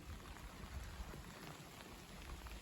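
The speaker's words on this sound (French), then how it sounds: "Ça devient même une belle averse, quand même." A night rain shower in late April falling steadily as a fairly heavy downpour, a dense even hiss of drops on surfaces with scattered louder patters, heard close and alone with no voices.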